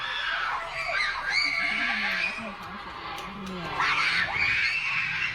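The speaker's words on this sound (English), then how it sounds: "Nobody wants to hear you screaming at the top of your fucking lungs" Girls in a movie theater during a K-pop movie let out shrill, repeated screams in bursts, loud and close, with voices and chatter mixed in between.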